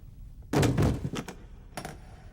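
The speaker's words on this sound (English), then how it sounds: "Put the cases on the ground." Hard cases set down on the ground in an animated action scene, heard as a close, heavy thunk with scraping and knocks, followed by a softer second bump.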